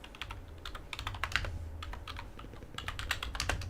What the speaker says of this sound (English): You like this ASMR of typing on a keyboard?